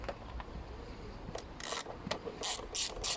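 A socket ratchet undoes bolts on a Ford Focus 1.8 TDCi engine, giving quiet, close bursts of rapid clicking that come in short repeated spurts.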